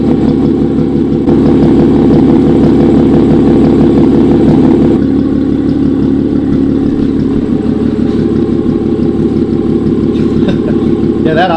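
A BMW M3 fitted with a Valvetronic exhaust idles steadily and loudly up close, a constant deep engine drone with light voices in the background.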